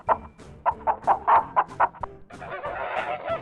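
A rooster gives a quick run of sharp, clucking calls, then breaks into a longer, hoarse, drawn-out cry, loud and close with no one talking.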